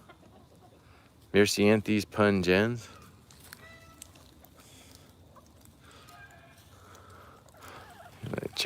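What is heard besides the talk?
hungry chickens clucking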